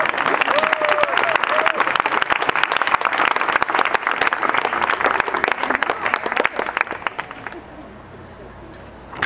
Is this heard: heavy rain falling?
no